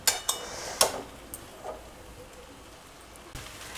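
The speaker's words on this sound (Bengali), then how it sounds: "এবারে আমি এই চিমটির সাহায্যেই আমি চাউমিনটা নেড়ে নেড়ে দেব।" Metal tongs tossing egg chowmein in a pan: a few sharp clinks and scrapes in the first second, then softer scattered taps and a faint sizzling hiss, with no talking.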